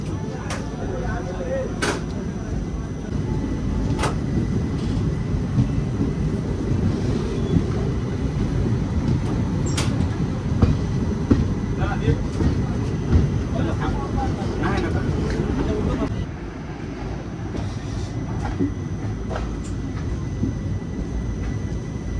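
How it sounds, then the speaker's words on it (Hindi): Steady low rumble of a slow-moving passenger train in India running on rails, heard from inside the carriage, with occasional clacks and knocks over the continuous roar and faint voices in the background. "जिस रफ्तार से ट्रेन जा रही है ना, मुझे नहीं लगता कि ये जाएगी"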